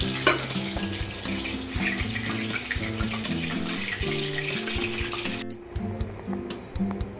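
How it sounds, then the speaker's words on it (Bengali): Chicken 65 pieces fry in hot oil at medium heat, a steady crackling sizzle running throughout with a soft tonal music bed underneath, briefly cutting to a sparser hiss near the end. "চিকেনগুলো দুদিক খুব ভালোভাবে ভাজা হয়ে গেছে, এবার তুলে নেব।"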